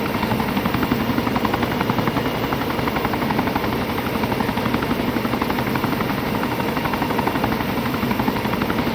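A helicopter flies in a military simulation video game during air assault training, its rotor thrumming as a steady, loud, continuous drone with no voices over it.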